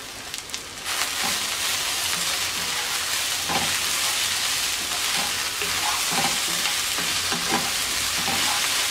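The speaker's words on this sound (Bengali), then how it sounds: "এবার আমরা এর মধ্যে ধনেপাতা কুচি দিয়ে নেড়ে চেড়ে নামিয়ে পরিবেশন করব।" Fried potato and okra with chopped coriander is stirred in a pan, giving a continuous close sizzle with scattered scrapes and clacks from the spatula.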